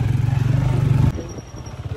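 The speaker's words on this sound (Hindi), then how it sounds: "मैं बड़ी देर बाद आज मोटरसाइकिल पे बैठा और बड़ा एंजॉय कर रहा हूँ।" A motorcycle engine throbs in a steady pulsing rhythm while riding, loud and close, then drops to a rougher, uneven hum as the ride goes on.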